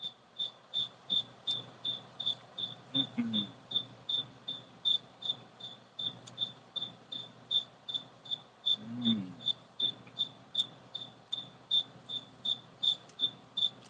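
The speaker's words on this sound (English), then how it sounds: "Shout out to the cricket too." A single cricket chirps in a steady, evenly spaced rhythm, close and clear against a quiet indoor background, with a couple of brief low thumps partway through.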